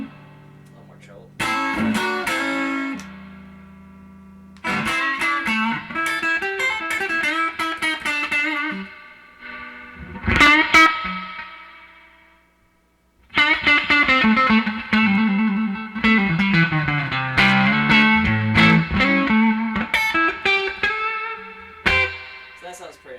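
An electric guitar played through a vintage 1976 Traynor YGL-3 Mark-3 tube amp with the gain cranked and volume lowered rings out in distorted chords and riffs, in bursts separated by short pauses, loud and close.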